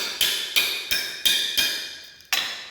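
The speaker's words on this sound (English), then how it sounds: "he's putting the pry bar right on the nail and he's pounding it in" A hammer drives a pry bar down onto a nail in a concrete-based floor: six sharp metallic strikes in a steady rhythm, each ringing briefly before the next, with a short pause before the final blow.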